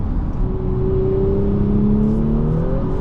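A 2024 Audi S5 3.0T Sportback Premium Plus pulls steadily in gear, its engine note rising smoothly in a continuous droning hum heard from inside the cabin, with no talking.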